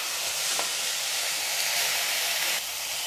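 Ginger garlic paste sizzles in a frying pan while it is stirred, a steady close hiss with a couple of brief scraping accents.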